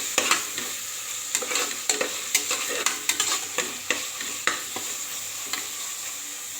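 Onions sauté with salt in a pan for vegetable pulao, a loud sizzle broken by regular scraping strokes of a spatula, about one every half second.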